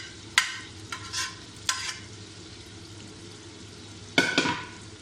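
Fatty mutton or beef pieces with their fat, spices and leftover pressure-cooker water being cooked and stirred in a pot for sheikhi gosht, giving a few sharp scraping stirs over a steady soft sizzle, close and alone without talk.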